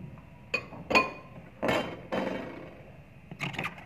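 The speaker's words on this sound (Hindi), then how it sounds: "अच्छी तरह से इन्हें मिक्स कर लेंगे।" Fruit chaat being mixed with yogurt, green chutney and chaat masala in a bowl, giving a few scattered clinks and soft scrapes of a spoon against the dish, close and quiet.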